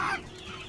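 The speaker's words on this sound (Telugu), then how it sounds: "ఈ కోళ్ళని ఒక ఫామ్లో పెట్టేసి ఇంకా వాటికి కావాల్సిన వాటర్ అండ్ వాటికి కావాల్సినటువంటి ఫుడ్ని సప్లై చేస్తున్నాము" Farm-raised chickens weighing around 750 grams to a kilo, kept in a poultry shed, give a quick burst of close clucking that fades into a low, steady farm murmur.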